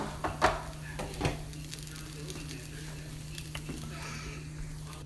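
Batter frying in a generous amount of oil in a pan over a lowered flame, a steady soft sizzle with a couple of louder spatters near the start, no talking.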